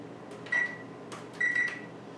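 Two short electronic beeps from an oven timer being set before baking a blueberry dessert bar pie at 375 degrees, each a brief steady tone about a second apart, with faint kitchen clatter between.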